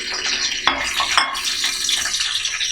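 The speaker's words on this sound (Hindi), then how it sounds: "अब हम ये जो सब्जियां हैं ये अपनी डाल के इसको फ्राई कर लेते हैं" Carrot, cabbage and capsicum fry in a few spoonfuls of oil in a large pot for chicken chow mein, a close sizzling hiss punctuated by a couple of sharp clinks from a spoon against metal.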